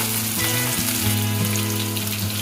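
Onions frying in a pan until browning, a loud, dense, continuous sizzle close by with a steady hum underneath and no voices.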